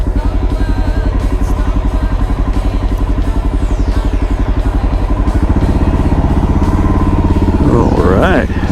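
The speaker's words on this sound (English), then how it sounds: "There's a little 5-speed, 1 down, 4 up. Just a great little trail bike." A Honda CRF 125 F five-speed trail bike runs close by, a loud rapid single-cylinder putter with steady rhythm and a brief rev near the end, with voices underneath.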